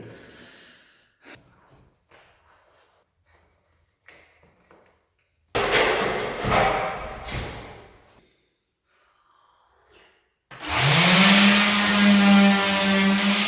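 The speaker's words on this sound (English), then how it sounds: "the hard work today, sanding" Quiet shuffling and breathing give way to bursts of abrasive scraping as filled ceiling cracks are sanded, then a loud power tool whirs up steadily near the end.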